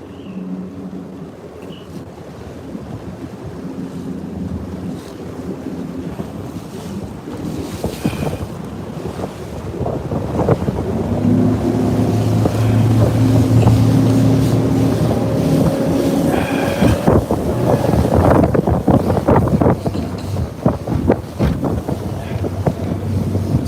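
A bass fishing boat motors across rough, choppy water, its engine droning under heavy wind buffeting the microphone and slapping waves, growing louder and rougher partway through with no talking.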